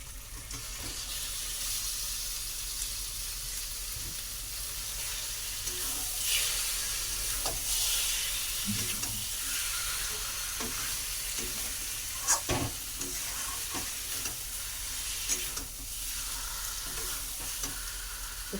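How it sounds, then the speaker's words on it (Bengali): Chicken leg pieces fry in spiced oil with a loud, continuous sizzle, while a utensil stirs and scrapes the pan now and then, close up and with no talking. "এবার তেলটা ছেড়ে গেছে মশলায় থেকে, চিকেনটা দিয়ে দেবো।"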